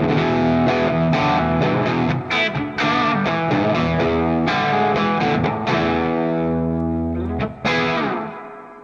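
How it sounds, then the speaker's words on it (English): Electric guitar playing sustained chords and notes through a Marshall amp, with a vintage-voiced digital reverb set around three-quarters leaving a washy tail after each strum, loud and continuous. "then you have your reverb, which is a vintage voice digital reverb"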